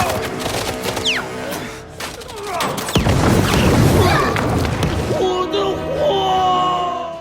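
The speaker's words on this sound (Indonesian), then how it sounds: "anak buah Long, truk narkoboy itu meledak" Drug truck exploding in an action film scene, a sudden heavy blast and crashing roar following chaotic shouting and thuds, loud and close, fading into rumbling debris.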